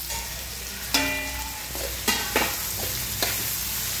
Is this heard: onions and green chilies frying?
yes